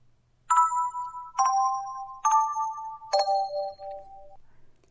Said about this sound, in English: that's the bell letting us know that it's now after class